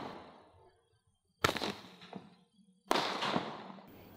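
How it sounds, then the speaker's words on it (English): A Roman candle firework shooting red and blue star shots fires two sharp, loud pops about a second and a half apart, each followed by a brief crackling tail against a quiet background. "Each package has 4 Roman candles and each one fires 8 shots."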